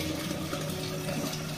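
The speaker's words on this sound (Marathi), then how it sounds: "पाणी सुद्धा मी कळशीने घालते" Water pours from a kalash, a metal water pot, into a large batch of khichdi, making a dense, even rushing splash that holds steady at close range for the whole short stretch, with no voices.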